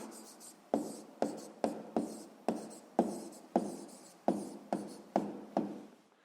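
Pen strokes on paper while writing down a math answer: about a dozen quick scratchy strokes in a steady rhythm, close and fairly clear, with no talking.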